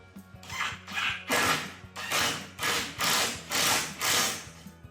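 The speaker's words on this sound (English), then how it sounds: "using the drill to put the screw in" A power drill drives a countersinking screw into a wooden built-in bookcase shelf in short, repeated bursts. About seven whirring pulses come close together and loud, each with a grinding rise and release, with no talk.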